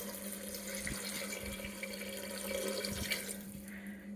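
Water poured into a cooking pot while making mushroom biryani, a steady close splashing stream running throughout with small clinks from the pot, no talking.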